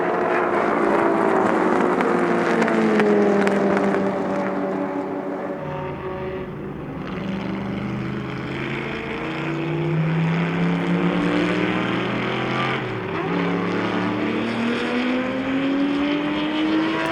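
A 1959 Ferrari 250 GT, race number 11, drives past on a racing circuit. Its engine note climbs loudly, dips as it passes at about six seconds, then winds up again through the gears, with no voices.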